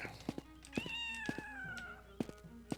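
A cat meowing in the video game Daggerfall Unity, several clear meows in a row, one long drawn-out call among shorter ones, close and fairly loud with faint thumps behind.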